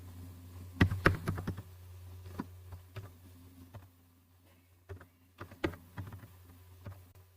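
Keys clacking on a computer keyboard while small text is entered in HTML code, with short bursts of quick clicks separated by pauses, fairly close and quiet over a low steady hum.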